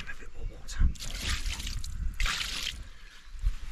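Water splashed and poured over a carp being held on the bank while fishing in Cornwall, a steady close liquid splash with wet squishy handling noises and a brief burst of louder pouring.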